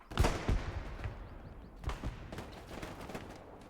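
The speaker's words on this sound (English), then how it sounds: "They're shooting behind you." Grease gun fire in a competitive multiplayer shooter match, heard as a few sharp reports early on with another burst later, mid-distance against busy background game noise.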